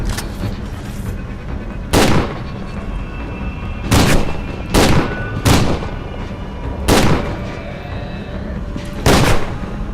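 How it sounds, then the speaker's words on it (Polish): Heavy shotgun blasts in the video game F.E.A.R. 2: Project Origin boom one after another at irregular intervals, six loud shots over a constant background rumble. "Dobra, trzy strzały ze strzelby i to coś pada."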